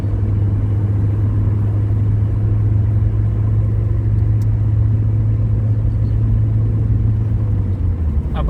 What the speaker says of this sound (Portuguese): Ver se eu consigo passar esse caminhão antes da subida da serra